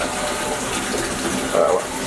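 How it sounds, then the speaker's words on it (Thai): Water streams from the hand-wash tap atop a Japanese toilet tank beside a restaurant, a steady close rush of running water, with someone talking over it. "เราก็จะแบบให้น้ำไหลให้เราล้างมือไปเลย"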